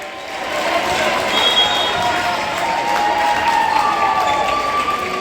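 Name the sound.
crowd cheering at volleyball match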